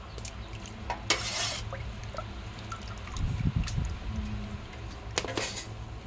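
Broth ladled into a bowl for Thai-Lao style kuay jap rice noodle soup, with a couple of bright splashing pours and a low clatter of the ladle and bowl in between, close and fairly quiet.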